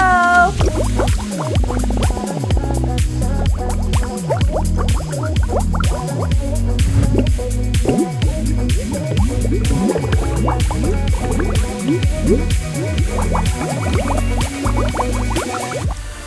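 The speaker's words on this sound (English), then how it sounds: "Now time to add our fizzy powder." A homemade lava lamp liquid with fizzy powder added bubbles and gurgles loudly, a dense, continuous stream of plopping bubbles and liquid pops that stays close and steady throughout.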